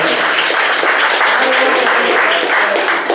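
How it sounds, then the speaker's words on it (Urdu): An audience at a poetry gathering claps loudly and continuously, a dense, close burst of applause that keeps up its strength throughout. "زوردار تالیاں بجا کر"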